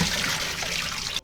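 Water drains from sliced fennel that had been kept in lemon juice, a brief close trickling and splashing pour that runs steadily and then cuts off abruptly.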